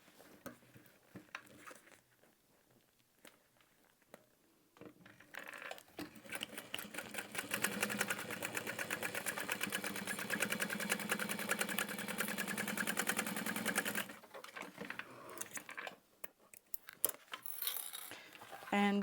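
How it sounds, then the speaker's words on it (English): A sewing machine top-stitches handbag panels open along a half-inch seam allowance, running steadily and loudly for several seconds as a dense, rapid mechanical rattle, with quieter handling clicks before and after. "We are going to be adding these panels and top stitching them open."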